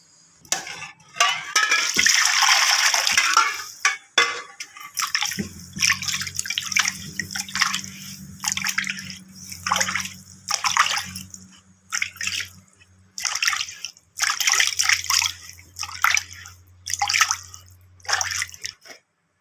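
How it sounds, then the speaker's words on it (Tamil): A burst of water splashing and pouring, then a run of irregular splashes, drips and clatters as a new clay pot is rinsed and emptied nearby. "தண்ணியை தூர ஊற்றிட வேண்டியதான்"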